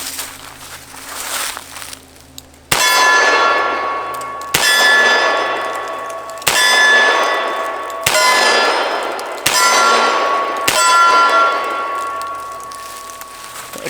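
Revolver shots fired on a range with a heavier trigger spring fitted, six loud sharp reports spaced about two seconds apart, each ringing out with a metallic decay, preceded by a quiet lead-in.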